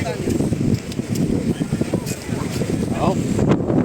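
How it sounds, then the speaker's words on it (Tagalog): Gusty wind on Boracay buffeting the microphone, a continuous rumbling roar with people talking faintly underneath. "Wow, sarap hangin."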